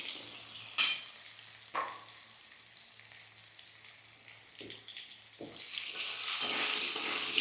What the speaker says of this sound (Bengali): দেখো আলুটাকে একটুখানি ভাজা ভাজা করব